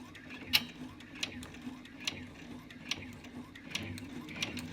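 An embroidery machine stitches across the bottom of a pleated in-the-hoop face mask, making a faint, regular mechanical ticking with sharp clicks roughly every second over a low motor hum.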